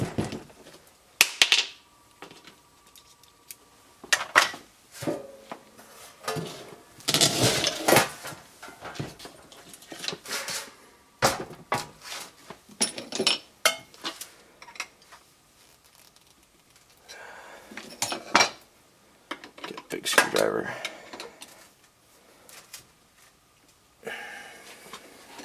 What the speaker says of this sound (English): Can hear the oil sloshing around.